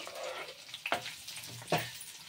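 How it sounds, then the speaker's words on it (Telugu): Onions and green chillies fry in a little oil in a pan on a stove, a steady soft sizzle with a couple of sharper spatters or stirring clicks, close and moderately quiet. "ఒక ప్యాన్ పెట్టుకొని కొద్దిగా ఆయిల్ వేసుకొని అండ్ ఆనియన్స్, పచ్చిమిర్చి ఫస్ట్ వేసుకొని ఫ్రై చేసుకోవాలి"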